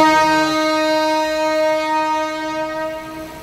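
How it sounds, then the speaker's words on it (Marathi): A departing train sounds a long, loud sustained horn nearby, the steady tone holding for several seconds and fading slightly at the end. "ट्रेन सुटते बाबा."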